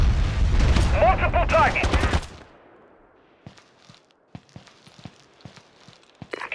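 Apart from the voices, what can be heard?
gunfire and explosion in Ghost Recon Advanced Warfighter video game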